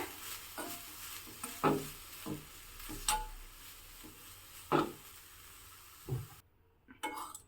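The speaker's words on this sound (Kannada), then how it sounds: "ಇವಾಗ ಅದೇ ಕಪ್ಪಲ್ಲಿ 1 ಕಪ್ಪು ತೆಂಗಿನ ತುರಿ ಹಾಕಿಬಿಟ್ಟು ಸ್ವಲ್ಪ ಬಾಡಿಸ್ಕೊತಾ ಇದ್ದೀನಿ." Grated coconut with dill leaves is stirred in a pan off the heat, giving a quiet series of intermittent scraping and tapping strokes of a spoon against the pan, faint and spaced out over a low background.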